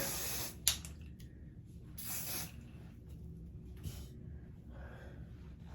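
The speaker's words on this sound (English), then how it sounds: "spray this a little bit." Two short hissing bursts of aerosol hairspray, close by, separated by a pause, in an otherwise quiet room.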